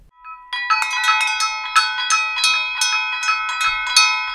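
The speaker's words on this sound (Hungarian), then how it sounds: "Így jelzett a csengő közel 60 évvel ezelőtt a diákoknak, figyelmeztetésként, hogy a tanítási óra kezdődik." An old hand bell at a rural schoolhouse, rung to signal the start of class, giving a rapid series of bright metallic clangs for about four seconds, close and loud, with no voices.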